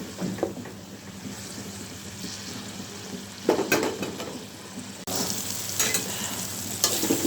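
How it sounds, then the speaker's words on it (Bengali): Vegetables and shrimp sizzle and crackle in a hot pan with no added water, stirred now and then, the frying growing louder partway through; no voices. "এখন আমি এই সবগুলা ভালো করে কষিয়ে নিব আর জল টল দিব না"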